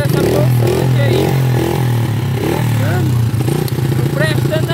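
A motorcycle engine and exhaust run loud and steady close by, a continuous low throbbing idle with slight wavering revs, while someone talks over it throughout.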